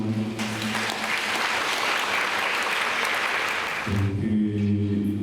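Warm applause from a church congregation celebrating the feast of the Presentation of the Lord at a chapel, a sustained burst of clapping lasting several seconds between stretches of held organ or keyboard chords.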